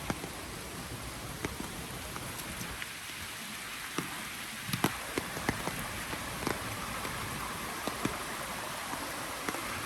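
Rain falls steadily outdoors in Pacific Palisades during a walk, a soft, even hiss with scattered drops and light taps, faint and continuous with no talking.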